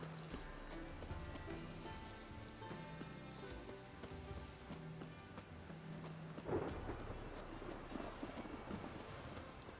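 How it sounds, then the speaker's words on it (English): Rain in Witcher 3: Wild Hunt, a faint steady hiss of falling rain with light patter, under low game music and a brief louder swell partway through. "It's raining all of a sudden?"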